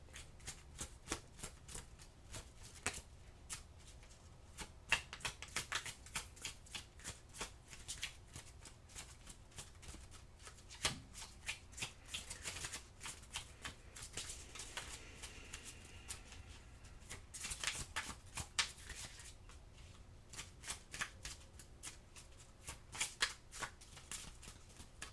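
Tarot or oracle cards being shuffled by hand, with soft riffling and flicking in repeated bursts over a long stretch, close and quiet, with no talking.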